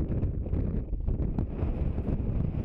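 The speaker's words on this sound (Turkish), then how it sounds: "Ya hava aşırı rüzgarlı." Strong wind buffets the microphone in continuous low, rough gusts, loud and close, with no voices, outdoors in a wheat and barley field during fertilizer spreading.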